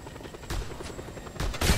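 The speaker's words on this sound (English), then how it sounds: "There's a damn copter" A helicopter in the video game Just Cause 2 hovers with a low rhythmic rotor chop, cut by short bursts of gunfire that grow louder toward the end.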